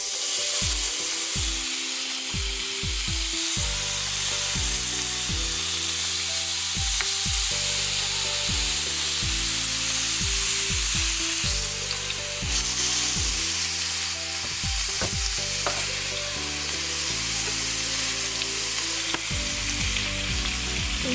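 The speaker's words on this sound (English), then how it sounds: "Now we're just going to drop the steak inside the pan." Steak seasoned with a rub sears in olive oil in a hot pan, giving a loud, steady sizzle and crackle with sharp pops and spatters all through, with no voices.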